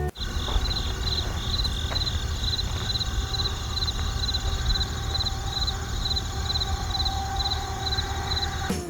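Crickets chirp continuously in a steady, rapid pulsing trill, loud and close against a constant background hum, with no voices.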